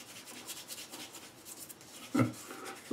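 Shaving lather being rubbed onto the face by hand, a close, quiet rasping rub in short strokes, with a slightly louder scrape near the end.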